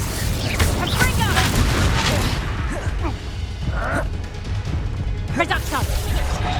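The Confringo explosive spell goes off in Hogwarts Legacy, heavy booming blasts and crashing combat effects that fill the whole stretch, loud and dense, with a voice calling out spells over them.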